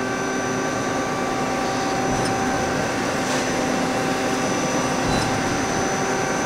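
A 1995 Okuma & Howa ACT-35 two-axis CNC lathe runs with a steady, smooth mechanical hum and whine, holding an even level throughout with faint brief ticks and no talking.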